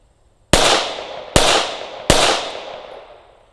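Three sharp handgun shots ring out at a target, spaced about a second apart, each a loud crack followed by a long echoing decay with nothing else audible.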